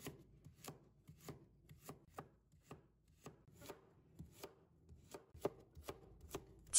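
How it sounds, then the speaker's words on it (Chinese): Knife cutting a carrot into short pieces on a cutting board; about a dozen crisp, evenly spaced chops close by, with quiet gaps between strokes. "接着准备1条胡萝卜，先把它切成小段"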